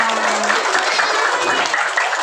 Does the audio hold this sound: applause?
yes